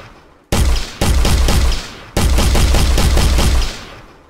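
Bursts of gunfire from a first-person shooter built in Unreal Engine, fired with the left mouse button: two short volleys then a longer sustained one, loud and close, with no talk over them.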